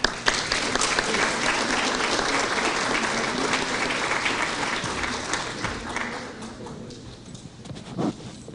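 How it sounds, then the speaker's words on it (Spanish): Dense, sustained applause from a seminar audience fills most of the stretch, then thins out and fades toward the end with a few scattered claps. "Nuevamente los despedimos con aplausos"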